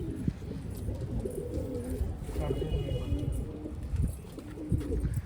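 Pigeons coo softly in a rural Punjabi home, a low faint cooing over background murmur and scattered small knocks.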